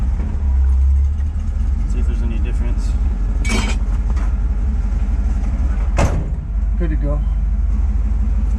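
A Chevy Nova engine with a newly fitted Turbo Hydramatic transmission idles smoothly with a low steady rumble, broken by a couple of sharp clunks, while people talk over it.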